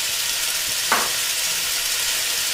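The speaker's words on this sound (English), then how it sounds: "I'm going to let this cook until the onions start to get transparent and translucent" Chopped onions and about two tablespoons of garlic fry in a pot, giving a steady, close sizzling hiss with a brief stirring scrape partway through.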